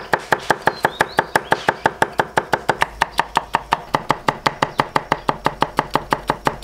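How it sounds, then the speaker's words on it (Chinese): A knife chopping cucumber into thick strips on a board, rapid, evenly spaced close knocks in a steady rhythm throughout. "准备一条黄瓜，先切片，然后再切成粗粗的细丝"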